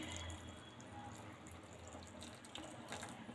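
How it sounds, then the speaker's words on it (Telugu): Hot water is poured onto tamarind set to soak for temple-style pulihora, making a faint, steady trickling splash that runs for a few seconds with no voices. "దీంట్లో లైట్గా హాట్ వాటర్ అయితే వేసుకుందాము"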